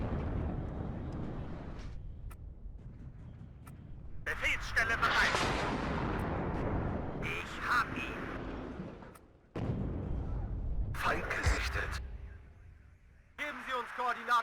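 Artillery fire in the Cold War strategy game WARNO, a series of heavy booming blasts and rumbling impacts in bursts, with someone talking over much of it.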